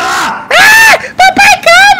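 Shrill high-pitched screams in a Roblox GTA 5-style roleplay game, three loud bursts with sharply rising and falling pitch separated by short gaps, with voices around them.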